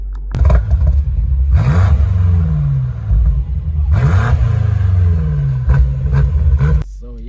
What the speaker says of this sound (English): first you're gonna just hear the exhaust from the back,